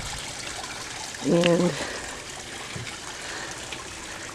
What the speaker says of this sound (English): her homemade waterfall